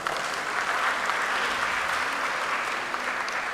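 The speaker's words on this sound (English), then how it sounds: "Let's please give him another round of applause." An audience at an annual New Year school and conference gives a steady round of applause, dense clapping filling the hall evenly from start to finish.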